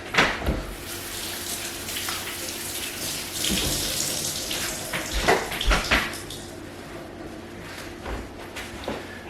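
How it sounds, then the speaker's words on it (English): Kitchen tap water runs steadily into a sink while hands are washed during onion and tomato chutney preparation, with occasional splashes and faint clatter, loud and close, and no talking. "Wash my hands."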